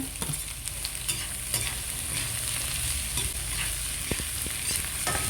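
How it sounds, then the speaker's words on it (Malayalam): Three sliced onions sautéing in hot oil with green chillies, a steady dense sizzle and crackle with occasional stirring scrapes, close and continuous, no speech. "സവാള നല്ല രീതിയിൽ വഴറ്റിയെടുക്കണം."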